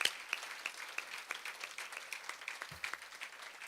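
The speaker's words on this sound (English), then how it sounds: "We give them a round of applause." Applause at an interfaith Thanksgiving dinner for the cooks and servers, a steady patter of many hands clapping in a large room, moderately loud and continuous throughout.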